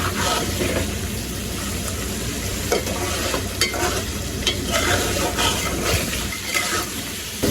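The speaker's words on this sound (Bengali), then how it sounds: "এই যে রোস্টের পিসগুলা কিন্তু পাঁচ মিনিটের মতো কষাইছি" Roast chicken pieces being sautéed in a pan, a steady loud sizzle with scraping stirs and occasional clinks of the spatula against the pan, continuous and close throughout.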